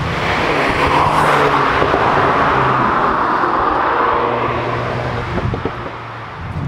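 A 2021 Mk8 VW Golf R with DSG gearbox and performance pack drives along, its engine drone and road roar filling the cabin loudly and steadily, with no one speaking.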